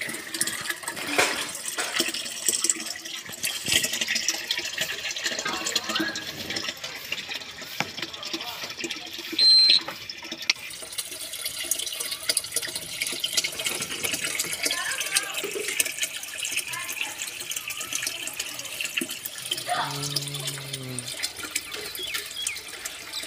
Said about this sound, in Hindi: अब हम अपनी मोटर चालू करके देख लेते हैं।